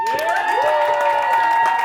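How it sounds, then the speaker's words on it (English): A crowd cheers and claps steadily throughout, a sustained wash of voices with some rising whoops riding over the applause. "If you think that Sydney and Nick Nurse won, cheer louder"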